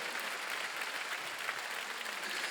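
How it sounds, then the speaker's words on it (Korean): A church congregation at a Wednesday service claps in a continuous, even patter of applause that sounds somewhat distant and modest in volume. "박수 좀 쳐요."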